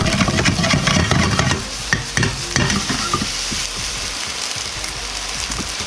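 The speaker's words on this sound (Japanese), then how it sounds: "上下に動かしながら揺すり炒めます" Black fried rice stir-fried in a wok, with a steady loud sizzle and repeated scraping and tossing clatter from the spatula and pan, and no voices.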